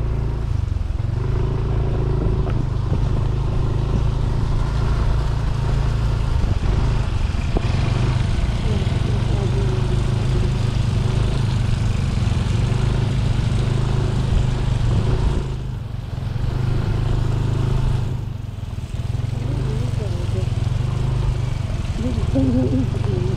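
A motorcycle engine drones steadily and loudly on a rough trail to Minalungao National Park, its rumble shifting as it bumps along, with voices talking over it now and then.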